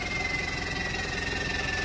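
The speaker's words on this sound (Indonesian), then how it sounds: "Biar kita dengarkan dulu suara ngiri-ngirinya sama suara knalpot sosnya ya." A Mitsubishi Canter Euro 4 truck fitted with a flexible pipe and a loud exhaust idles steadily, a continuous rumbling drone with a faint high whine heard close and unbroken.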